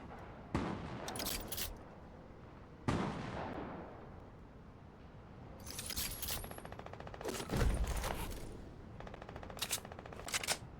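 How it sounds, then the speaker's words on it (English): Heavy rifle fire in Fortnite comes in several separate bursts of sharp shots amid booming impacts and game effects, fairly quiet overall with no talking. "The heavy rifle is so lame."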